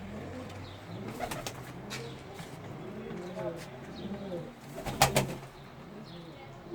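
Pigeons coo in a poultry coop, soft repeated throaty rolling calls close by, with a brief burst of wing flapping or rustling midway and faint background noise.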